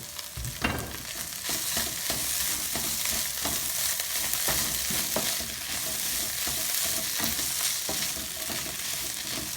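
Garlic cloves and coriander leaves frying in a pan for chepa shutki bhorta, a steady close sizzle punctuated by regular scraping strokes of a spatula stirring, with no talking.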